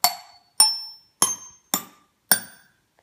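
Homemade pipe xylophone in an egg carton design struck five times at an even pace, each bright, clinking tap ringing briefly and decaying quickly, close and alone.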